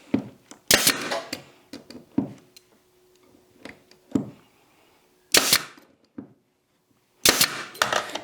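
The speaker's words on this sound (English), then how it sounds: "Hold it there and just shoot through a brad nail." A brad nailer fires into wood for a wooden Christmas decoration, with several loud sharp pneumatic bangs at irregular intervals and smaller clicks and handling knocks between them, close by.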